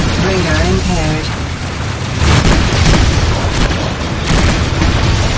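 Loud booming explosions from missile hits in the space combat game Rebel Galaxy Outlaw, heavy rumbling blasts over a constant roar, with a synthetic warning tone early and a voice speaking.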